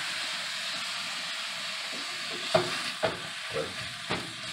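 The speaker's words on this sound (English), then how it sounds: "We're gonna go ahead and saute this down." Taco filling sautés in a pan with a steady sizzling hiss, then a few stirring scrapes and knocks come through in the second half.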